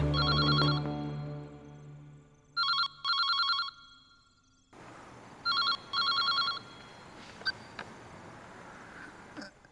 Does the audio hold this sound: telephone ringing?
yes